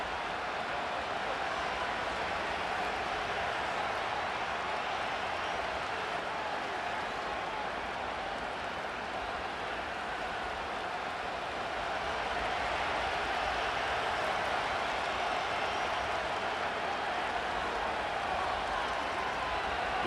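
Steady stadium crowd roar in a Madden 25 football game between the Kansas City Chiefs and Chicago Bears, a dense, continuous wash of cheering that holds level for the whole stretch with no distinct voices standing out.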